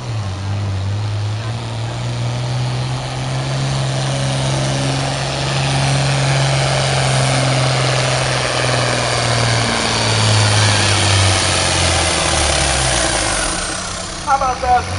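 A John Deere 4255 tractor roars steadily at full power during a fair tractor pull, a loud continuous engine drone that swells slightly, with an announcer's voice over it.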